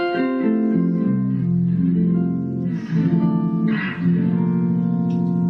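An electric guitar through a harmonizing pitch-shift pedal adds a fourth above and a fifth below each note, producing thick, organ-like chords; a slow melodic phrase plays continuously, loud and close, with a couple of brighter pick attacks and no voices.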